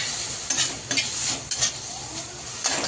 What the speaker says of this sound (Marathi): त्याला चांगला आता हलवून परतून घेऊ चांगलं